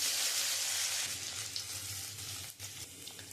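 Black cumin and ginger sizzle in hot oil in a pan, in oil that was just used to fry small puti fish. A soft, steady frying hiss runs throughout, briefly dipping near the end.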